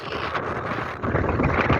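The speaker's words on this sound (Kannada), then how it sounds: "ಏನು ಗಾಳಿ" Strong wind on a hilltop at Gopalaswamy Betta roars and buffets the microphone in a continuous low rumble with gusty surges, loud and close, no voices.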